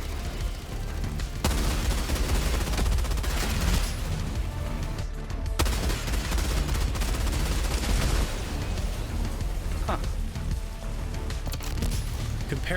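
Heavy machine gun fire in a video game, a dense, continuous barrage of rapid shots and booming impacts that rolls on loudly for the whole stretch with only brief dips.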